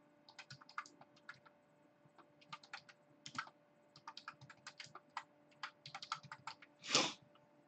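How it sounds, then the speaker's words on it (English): Fast bursts of typing on a computer keyboard, with clustered key clicks separated by short pauses and one louder clack near the end, close and clear with no talking. "let me type it in for you"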